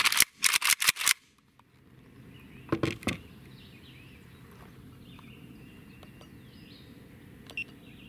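A Century Arms underfolder AK47 with no magazine and an empty chamber gives a few sharp mechanical clicks early on as the trigger is worked and breaks, then near-silence with faint background noise.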